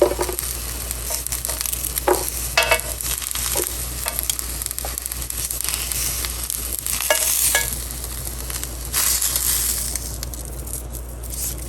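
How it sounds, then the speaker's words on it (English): Constant sizzling of onions and tomatoes roasting in a hot pan, with occasional scrapes and stirring clicks over a steady low hum. "I'll keep roasting the onion and the tomato"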